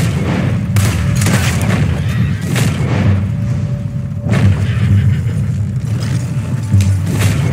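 Gunfire in the Red Dead Redemption 2 video game comes as several loud, booming shots spaced a second or two apart over low rumbling background.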